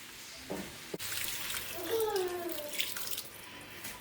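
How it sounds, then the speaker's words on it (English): Water is poured into a cooking pot for Caribbean spinach rice, a steady splashing and gurgling pour that rises in pitch as the pot fills, preceded by a brief knock. "I'm going to add 5 cups of water in total."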